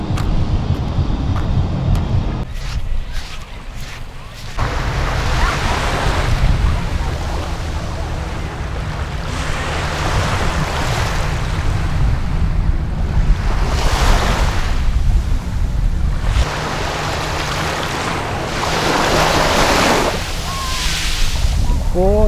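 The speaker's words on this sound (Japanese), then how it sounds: "いやー海だー" Ocean waves on the sea at Fukuoka wash in steady, broad surges that rise and fall every few seconds, with wind buffeting the microphone throughout and a brief moment of quieter wash early on.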